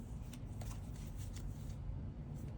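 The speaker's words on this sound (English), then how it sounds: "shuffling more to get pile 3" A deck of cards is riffled and shuffled up close in a quiet room, giving a soft continuous fluttering with a few crisp snaps.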